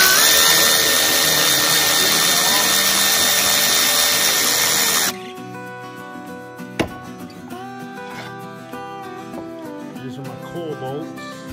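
A power tool whirs loudly and steadily for about five seconds while removing the coil bolts on a Honda small engine, then cuts off, leaving quieter clicks, a sharp knock and faint tonal background sounds.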